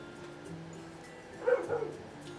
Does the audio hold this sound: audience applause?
no